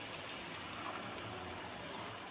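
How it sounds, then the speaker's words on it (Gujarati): Water is poured into a pan of Punjabi-style brinjal curry, giving a soft, continuous rushing wash that stays even throughout, fairly quiet and with no voices. "આપણે એમાં હવે પાણી થોડુંક નાખી દઈશું"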